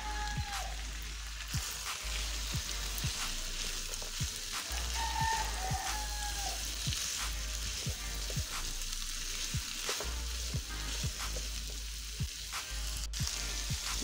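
Minced meat keema frying in a pan as onions go in, a steady close sizzle with soft crackles and occasional stirring scrapes, continuous and without voices.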